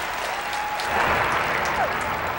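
Crowd applause fills the Carrier Dome at a 1987 Syracuse versus Johns Hopkins college lacrosse game, a steady wash of clapping and cheering that swells slightly midway, with no clear talk over it.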